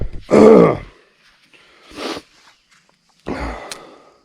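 Heavy breathing from a man with a cold while wade fishing, three separate loud breaths or grunts spaced with quiet gaps, close to the microphone, with no words.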